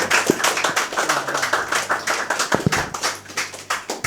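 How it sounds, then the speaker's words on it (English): A small audience at a talk on Heidegger and technology applauds speaker Iain D. Thomson with distinct, close individual hand claps in an uneven rhythm, some sharper than others, lasting about four seconds. "Can you give a round of applause for Iain?"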